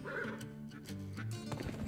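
Horse neighs and clip-clops in the Wild Gun video game, a whinny carried over continuous hoof trotting that keeps going steadily at close range.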